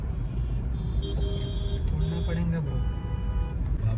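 Road traffic in Wagholi, Pune, is heard from inside a Tata Nexon stuck in a CNG queue. Engines hum close by in a steady rumble, with a faint horn toot, under people talking.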